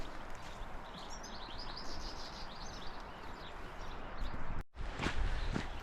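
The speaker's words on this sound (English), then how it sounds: "The birds are birding, they're chirping, they're not fighting, they're just enjoying." Birds chirp outdoors at the Clay Cliffs near Omarama, New Zealand, after light rain. Scattered, fairly faint calls sit over a steady outdoor wash, with footsteps along a path and a brief dropout near the end.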